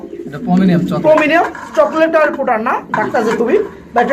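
Andalusian pigeons coo in a pigeon market, soft rolling coos repeating up close alongside talk.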